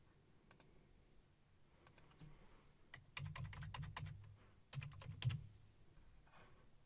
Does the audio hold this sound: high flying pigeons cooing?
no